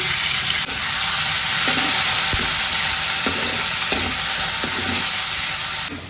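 Chopped onion and garlic fry in oil for a village-style greens dish, making a loud, continuous sizzle broken by several short scrapes of stirring, with no talking.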